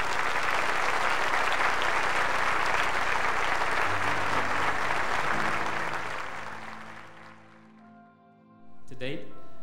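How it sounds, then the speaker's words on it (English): Loud, dense applause from a tribute event audience, sustained for several seconds before fading away, with a brief burst of sound near the end. "Please give him a huge round of applause."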